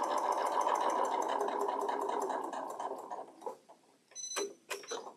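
A sewing machine stitches a quilt block in a fast, even run of needle strokes, then slows into a few separate stitches and stops with some clicks near the end. Close and fairly quiet.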